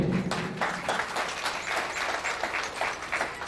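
Steady crowd applause at a company foundation day celebration, dense and continuous clapping that fills the whole stretch at moderate loudness.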